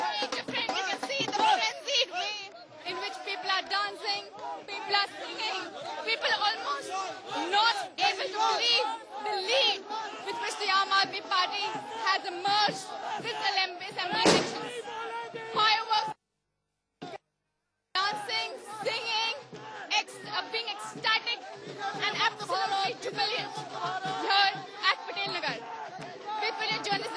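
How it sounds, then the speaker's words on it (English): A crowd of party supporters at an Aam Aadmi Party office in Patel Nagar sings and cheers to a dholak, a dense continuous babble of voices and chanting with rhythmic drumming underneath and a reporter talking over it. "People at the Aam Aadmi Party office here at Patel Nagar dancing to the dholak, singing, really enjoying themselves."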